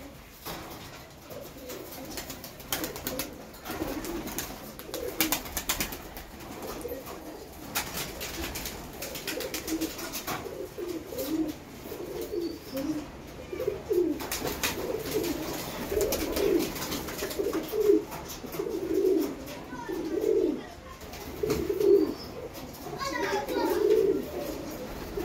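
Pet pigeons cooing softly as they come into their loft, with low repeated coos building over time against quiet background noise and distant children's voices.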